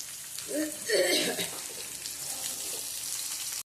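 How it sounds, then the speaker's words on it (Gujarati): Okra fries in plenty of oil for a Gujarati bhindi shaak, producing a soft, steady sizzle up close, with a short voice-like sound early on. "આપણે ભીંડો તળાવા આવ્યો છે"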